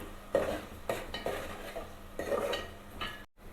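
A utensil stirs and scrapes in a pan over a soft sizzle of onions frying with tempering seeds, with intermittent clinks and short stirring strokes.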